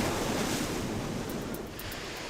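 Ocean surf rolling in steadily at a beach where a rescue boat is working near rip currents, a continuous broadband wash of crashing waves with wind noise across the microphone, no voices.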